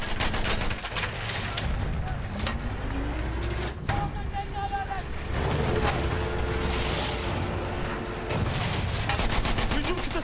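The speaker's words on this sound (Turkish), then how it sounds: "Orada bir makinalı tüfek var." Machine gun and rifle fire rattle through a Battlefield 1 battle, dense and continuous at mid distance, with heavy booms and a tank engine rumbling underneath and a voice calling out over the din.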